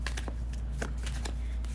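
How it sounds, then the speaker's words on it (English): Tea leaf cards are shuffled by hand for a card reading, a quick run of crisp papery flicks and riffles over a constant low hum, close and with no talking. "So this time I'm going to shuffle 1 tea leaf card per month."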